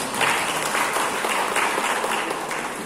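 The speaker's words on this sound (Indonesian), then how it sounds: "Tepuk tangan untuk UMKM kami." Dense, steady applause from an audience of local small-business owners at a Halal Bihalal gathering at the regent's official residence in Karanganyar, a continuous wash of clapping that holds level for the whole stretch.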